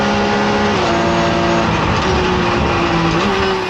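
Porsche GT4 race car engine at Misano accelerating hard down the straight, a loud, continuous high-pitched drone with rising pitch that dips briefly at a gear change near the end, close and dominant throughout.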